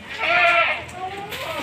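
A male goat at a livestock farm gives one loud, wavering bleat close by, followed by a shorter, softer second call.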